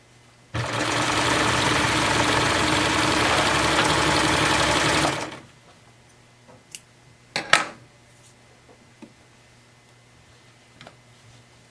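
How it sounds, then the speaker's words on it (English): A sewing machine runs one steady burst of about five seconds, stitching the short side seams of Megan Nielsen Acacia underpants at a quarter inch, followed by quiet clicks and fabric handling. "we're gonna sew those at 1/4 of an inch"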